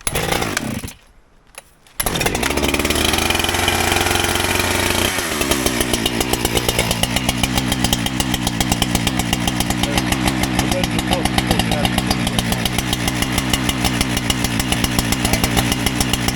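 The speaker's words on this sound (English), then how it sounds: "Let me fire it up. I'm definitely gonna warm it up because it's cold out" A STIHL MS 500i fuel-injected chainsaw is yanked to life after a brief sputter in cold weather, then runs close and loud, its engine droning steadily as it warms up.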